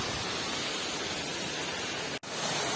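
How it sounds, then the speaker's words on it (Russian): Muddy yellow waterfall at Mendelikha waterfall park pours in a steady, dense broadband roar, close and loud, broken by one brief dropout near the end. "Грязевой водопад."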